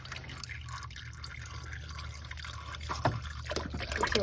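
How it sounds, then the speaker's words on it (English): Motor oil draining from a car's oil filter spot into an oil pan during an oil change, a faint steady trickle with scattered small drips and a couple of sharper splashes toward the end. "it's going to drip a lot of oil"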